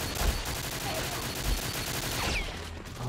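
Rapid gunfire rattles through a Goldeneye Wii match, a dense, continuous stream of shots at moderate volume with a few heavier thumps standing out.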